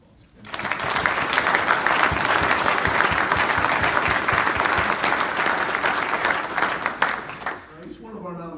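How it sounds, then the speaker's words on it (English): Audience at an awards banquet breaking into loud, sustained applause, dense clapping swelling in quickly and holding steady for several seconds before tapering off as a voice returns. "So let's give these folks a round of applause."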